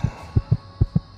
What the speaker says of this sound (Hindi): दिल तेजी से धड़क रहा था